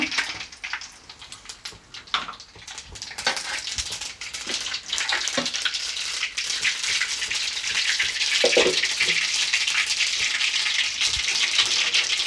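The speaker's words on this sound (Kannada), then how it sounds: "ಈಗ ಎಣ್ಣೆ ಸ್ವಲ್ಪ ಬಿಸಿಯಾಗಿದೆ ಸಾಸಿವೆ ಹಾಕೊಳ್ಳೋಣ" Mustard seeds go into hot oil for puliyogare, with a few early clicks and taps. A dense, steady sizzle then builds and continues loudly with fine crackling throughout.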